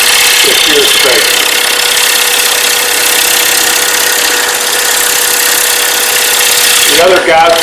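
A 5/8 bowl gouge with swept-back wings shears wood on a lathe, giving a loud, continuous broadband hiss of cutting over the motor's steady hum, with brief speech near the start and end.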